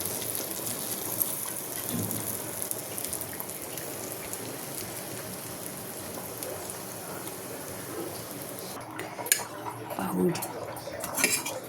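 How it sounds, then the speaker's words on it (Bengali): Bread slices fry in butter in a pan, producing a steady, rain-like crackling sizzle, and a few utensil clinks and scrapes come near the end. "এই পাউরুটিগুলো দিয়ে দিয়ে ভালো করে ছেঁকে নিতে হবে।"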